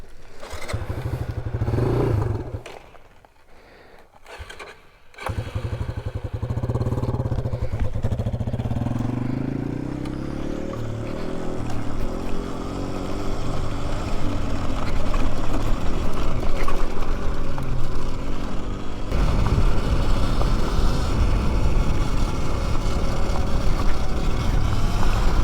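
A street-legal Surron electric dirt bike rides on a single-track trail, with a steady motor whine and the rough rumble of tires over dirt that builds louder after a short quiet pause.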